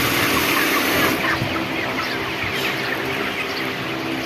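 Broiler chickens on a farm cluck and murmur together in a continuous flock chatter over a steady background hiss as water is sprayed in hot weather.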